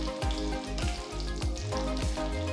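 Mustard seeds, cumin, fennel, peppercorns and broken red chillies roast in a kadai, giving a soft, steady sizzle with repeated scraping stir strokes and a low background hum.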